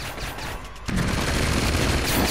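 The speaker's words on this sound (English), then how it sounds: "they're shooting them crossbows fast" Guardians fire crossbows in a rapid volley during a firefight in Uncharted 2, a dense, loud stream of shots and impacts starting abruptly and continuing without pause.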